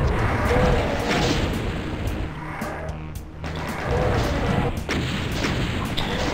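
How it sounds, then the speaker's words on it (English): Rapid, dense chain gun fire in Doom 2 hammers away almost without pause, loud and close, with booming impacts and explosions in the game mixed through the stream. "The chain gun is not the optimum weapon against revenants, by the way. I don't know why I'm using it, but I just am."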